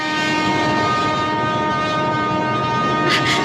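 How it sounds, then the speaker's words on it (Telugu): A train approaching, with a loud, steady horn-like drone over a continuous rolling rumble for the whole stretch, and a brief hissing burst near the end. "అదిగో రైలు వస్తుంది."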